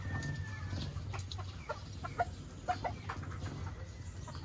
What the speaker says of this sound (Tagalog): Itong fighting cock na to,